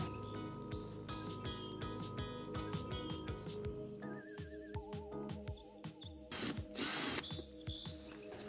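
Power drill boring drainage holes into the bottom of a plastic compost bin, a steady whirring drill with repeated short bursts and clicks, close and fairly loud, no talking.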